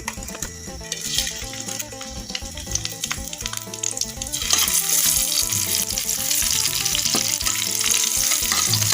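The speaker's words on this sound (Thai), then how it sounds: "เอาใส่น้ำมันพืชลงไป นะครับ ตามด้วย กระเทียม แล้วก็พริกนะครับ" Garlic and chili hit hot vegetable oil, bursting into a loud, close sizzle that swells about halfway through, with metal utensil clatter and stirring scrapes against the pan.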